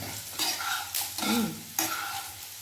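American corn coated in cornflour and flour fries in a little oil, with soft sizzling broken by several scraping stir strokes of a spatula in the pan, close but fairly quiet.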